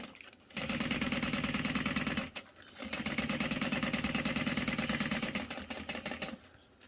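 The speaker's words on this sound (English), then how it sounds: "I'm going to start right at that mark, back stitch, and then finish sewing." A sewing machine stitches a backpack, running in two long sustained bursts of steady mechanical whirring with a short pause between them, close and loud with no talking.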